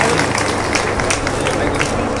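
Crowd applauding at a public felicitation event in a Haryana village, with dense, steady clapping filling the space throughout with no break.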